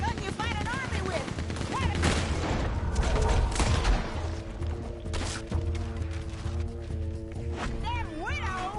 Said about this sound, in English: A Gatling. Woo, that's a gun you fight an army with.